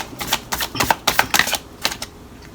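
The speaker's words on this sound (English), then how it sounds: "I'll just slip these back in here. Split them again." Tarot cards being split and slipped back into a deck, giving a series of quick, close papery riffles and clicks in short bursts.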